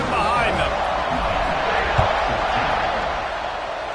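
A college football stadium crowd roars steadily before a kickoff, a broad and continuous wash of cheering with a voice talking over it.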